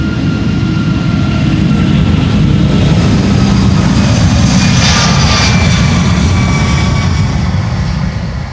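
An Airbus A340-600 jet bound for Paramaribo, Suriname roars loudly and steadily through its takeoff run on Polderbaan runway 36L at Amsterdam Schiphol on a sunny morning, the dense low engine rumble joined by faint high whines.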